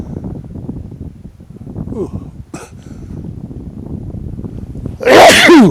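A man murmurs quietly, then a single loud, sudden sneeze bursts out close to the microphone at the end.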